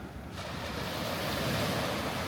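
Ocean surf washing onto the shore, a steady rushing wash that swells and grows louder after a quieter start, with some wind mixed in and no voices.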